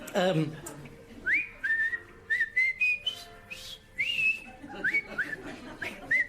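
A man whistles the marching tune from The Bridge on the River Kwai in short, clear melodic phrases, close and alone, with a brief voice at the start.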